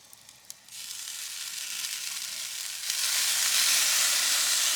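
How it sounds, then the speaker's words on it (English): Pork belly char siu sizzles on a grill as marinade is basted onto it. After a few faint clicks, a loud hissing sizzle starts abruptly and grows louder and steadier partway through. "let's do a little basting"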